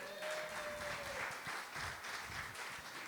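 Audience applause at a live show taping, a steady wash of many hands clapping throughout, loud and sustained, with a brief tonal whistle or tone early on.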